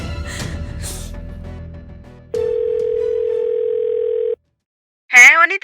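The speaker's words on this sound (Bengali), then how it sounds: "আমি ম্যাডামকে ফোন করছি" A steady telephone dial tone sounds for about two seconds as a call is placed, after a stretch of quiet background talk, then cuts off before a ringing or answering voice starts.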